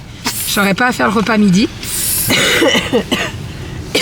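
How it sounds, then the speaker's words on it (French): A woman coughs a few harsh, breathy times close to the microphone, between bursts of her own speech. "je tousse toujours autant"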